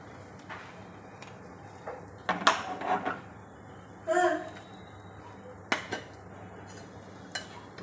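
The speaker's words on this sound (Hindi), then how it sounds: "हम चाहे तो स्पून घुमा के भी उसको फैलाते हैं" A spoon swirls besan batter around a pan to spread it for pudla, giving a few scattered metallic scrapes and clinks, with quiet gaps in between.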